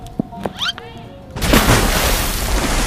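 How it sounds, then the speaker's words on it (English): A loud explosion goes off underwater after a few soft squeaks and clicks, then keeps roaring as a broad, churning rumble. "Something exploded, but it wasn't a stomach."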